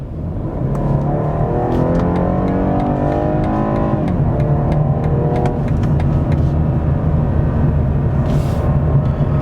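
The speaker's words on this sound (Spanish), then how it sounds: "Aquí vamos a bajar marchas y vamos a hacer una aceleración desde 53." A BMW 4 Series engine blips as gears drop, then pulls hard from 53 with rising revs on a road test, a loud, close interior drone climbing steadily in pitch.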